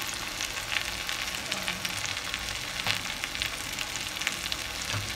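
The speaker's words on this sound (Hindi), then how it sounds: "और इसमें जो पोहा है अपना पोहा डालेंगे।" Poha frying in a pan on the stove gives a soft, continuous sizzle and crackle, broken by occasional light scraping from stirring, heard close and alone without talk.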